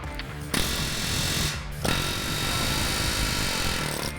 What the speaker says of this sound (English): Then get your air hammer with the spade bit on it.